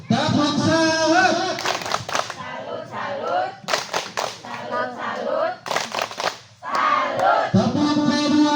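Indonesian mothers at a community family-welfare meeting perform a rhythmic salute clap, sharp patterned claps and chanting voices in bursts, with a voice calling out between them.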